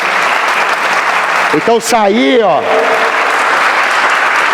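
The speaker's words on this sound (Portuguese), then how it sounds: "Você podia dar um aplauso a ele." A church audience applauds steadily at a sermon, with dense, sustained clapping from a crowd while someone speaks briefly over it.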